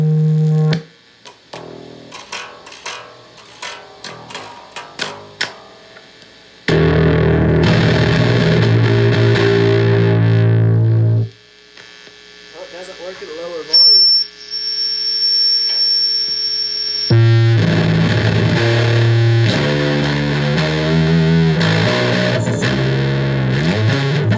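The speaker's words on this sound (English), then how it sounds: "let me show you some of that feedback technique" Bass guitar through a high-gain amp producing distorted, heavily effected sustained feedback tones, with sudden loud drones, warbling pitch sweeps and a piercing high whine, starting with choppy plucked bursts and swelling into dense, loud roaring sections.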